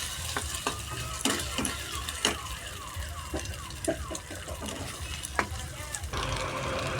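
Three eggs are stirred together with onions frying in a hot pan. A steady sizzle runs throughout, with repeated scraping strokes of the spatula, close and moderately quiet.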